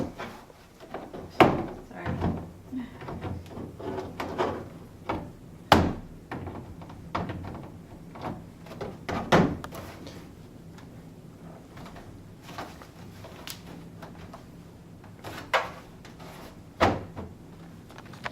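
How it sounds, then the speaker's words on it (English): A kiosk stand cabinet door being fitted onto its pegs and slid into place, giving a series of scattered wooden knocks, thunks and scrapes at uneven intervals, close by, with quieter handling noise between. "putting the door first in the bottom hole with the peg"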